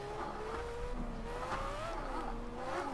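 A Formula A open-wheel race car in the sim Project CARS slides through a drift, a high engine whine rising and falling under a steady tyre hiss, quiet and continuous.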